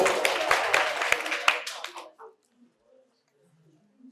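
A crowd claps at a quiz competition held at Santiniketan Medical College and Hospital, with a burst of applause that lasts about two seconds and then quickly fades to near silence.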